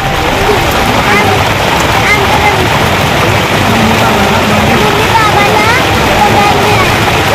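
Dense, steady rain pours down loudly without a break at Azad Maidan, with muffled voices and faint engine noise mixed into the wash.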